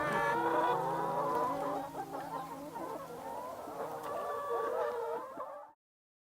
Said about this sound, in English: That's what a real chicken looks like.